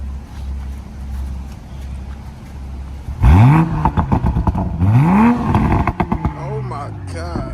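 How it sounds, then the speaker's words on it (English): Toyota Supra engine revved hard twice from idle, each rev rising sharply and falling back, with excited voices talking over it nearby. "rev it up for me"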